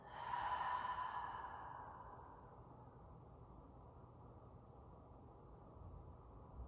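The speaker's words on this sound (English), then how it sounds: "And breathe it out." A long, slow exhale during a yoga breathing exercise, a soft airy sigh that fades gradually into quiet room tone, close and gentle.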